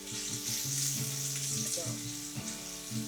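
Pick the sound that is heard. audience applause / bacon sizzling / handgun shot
bacon sizzling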